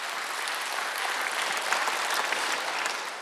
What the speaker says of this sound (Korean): 다시 한번 박수 치며 들으시 바랍니다